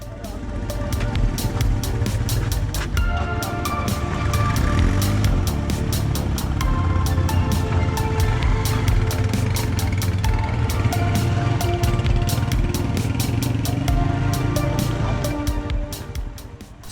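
Several motorcycles ride out of Khush village in the Broghil Valley toward Karambar, their engines droning steadily and close with a continuous low rumble and rhythmic clicking over wind noise throughout.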